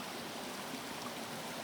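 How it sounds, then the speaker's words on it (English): Mountain water on the Appalachian Trail near Saddleback Mountain runs past as a stream with small waterfalls, giving a soft, continuous rushing wash at moderate distance with no talk. "Been walking by this stream here in the waterfalls for quite a while."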